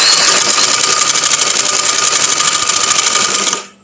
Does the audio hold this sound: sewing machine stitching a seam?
yes